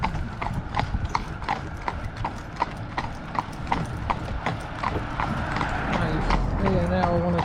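Horse hooves clip-clop on a road in an even, steady walking rhythm, close and clear, with a faint mechanical rattle of harness or carriage and someone talking over it.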